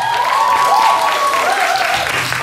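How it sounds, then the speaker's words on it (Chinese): Live audience applause with cheering at a university jazz club's end-of-term concert, a dense steady wash of clapping laced with a high gliding whoop or whistle, loud and sustained throughout. "这时候应该掌声加尖叫了"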